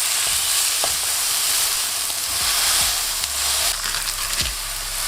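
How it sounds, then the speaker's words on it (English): Smash burger patties made from pressed balls of meat sizzle in a hot pan with a light coat of oil over medium-high heat, a steady close frying hiss broken by a few short scraping presses. "When the pan is nice and hot, add in your meatballs"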